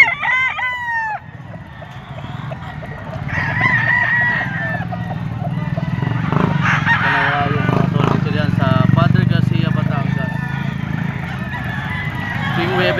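Roosters crow repeatedly amid honking geese and other fowl at a Padre Garcia, Batangas poultry auction market, with someone talking over the busy, close-up din and engine rumble in the background.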